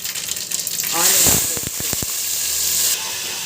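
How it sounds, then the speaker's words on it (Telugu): Mustard seeds, cumin and fenugreek frying in hot oil for a fish curry, a continuous bright sizzle with a few crackling pops, swelling briefly in the middle and then cutting off abruptly. "ఆయిల్ బాగా వేడెక్కింత ఆవాలు జీలకర్ర మెంతులు ఇవి వేగినాక"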